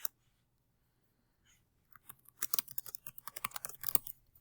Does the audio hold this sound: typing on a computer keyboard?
yes